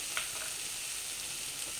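Onion with salt and spices frying in oil in a pan, giving a steady, soft hiss of sizzling with faint stirring, quiet and close, without talk.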